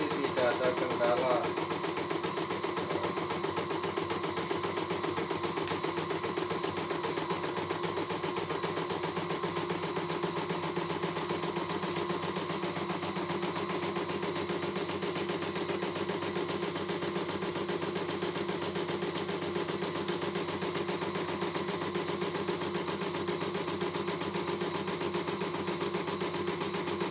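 A CNY E900 embroidery machine runs on a test with a steady, continuous mechanical hum, while a person talks over it.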